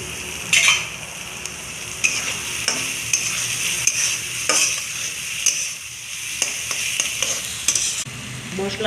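Spice paste with tomato, coriander powder and Kashmiri chilli powder fries in a pan with a steady sizzle, and a spoon stirs and scrapes against the pan in repeated close clinks.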